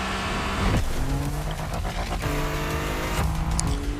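A Ford Bronco from the Hawaii Scenic Tour in The Crew Motorfest revs loudly and steadily, its engine note climbing and dropping through a few gear shifts.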